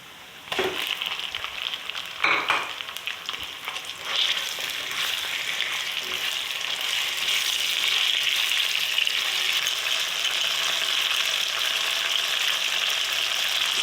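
Minced keema sizzles and fries steadily in hot ghee and oil, a dense continuous crackle with a few stirring clatters near the start, close and fairly loud with no talk.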